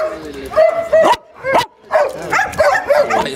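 Dog at an outdoor dog shower in Huanchaco, whining and yipping in high, wavering cries with short breaks between them, close and fairly loud.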